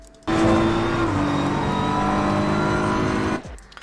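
A BMW M4 race car in Assetto Corsa Competizione at Oulton Park roars loudly as it accelerates, its engine tone climbing steadily over about three seconds before easing off, with no voices.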